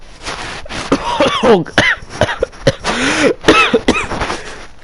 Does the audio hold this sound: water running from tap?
no